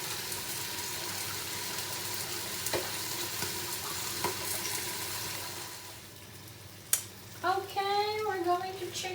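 Chicken pieces fry in their own rendered fat with no added oil, giving a steady, close sizzle and crackle throughout, with a brief clatter near the end and a voice speaking over the last couple of seconds.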